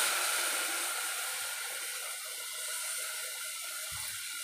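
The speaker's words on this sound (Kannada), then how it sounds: "ಇವಾಗ ಸ್ವಲ್ಪ ನೀರು ಹಾಕ್ತೀನಿ" Water is poured into vangi bath masala, a steady rushing hiss of liquid running continuously and fairly close, with a small thud near the end.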